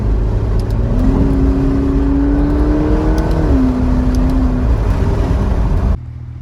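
A 2015 McLaren 650S Spider engine revs loudly and steadily as paddle-shifted gear changes come through, its tone climbing and then dropping at each shift before the sound cuts off abruptly.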